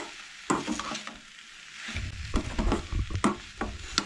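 Chickpeas with turmeric and chole masala being sautéed in a pan for Goan-style chole, a soft sizzle broken by irregular scraping and clacking spoon strokes, fairly close and moderate in level.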